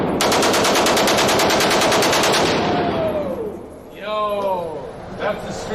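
A G36 assault rifle fires on full auto at a range, a loud, rapid burst of evenly spaced shots lasting over two seconds, followed by excited shouting and voices.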